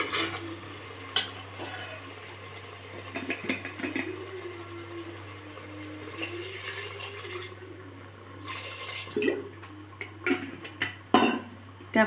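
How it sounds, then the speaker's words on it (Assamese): Local chicken curry is stirred in a metal pot with a spoon, giving irregular scraping and clinking knocks over a steady low hum, with occasional sharper clanks toward the end. "এতিয়া ভালদৰে লাৰি দিম মই।"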